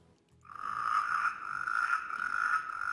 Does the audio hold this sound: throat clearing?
no